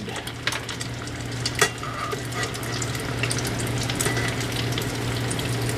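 Green tomato slices frying in a pan, a continuous close crackling sizzle that builds slightly toward the end, with a few light clicks and no talk.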